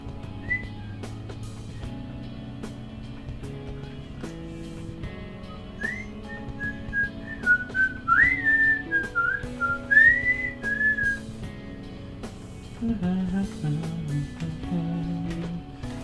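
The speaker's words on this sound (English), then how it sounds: "Oh, I did whistle just a second ago" A person whistles a meandering tune close to a microphone over steady low background music, with the whistling growing louder in the middle of the stretch.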